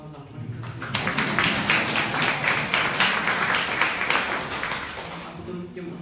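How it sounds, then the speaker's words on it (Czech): Audience applause at a panel discussion on rental housing in Prague, a sustained wash of many hands clapping from start to finish at steady moderate loudness, with no talk in the gaps. "Můžeme mu třeba zatleskat."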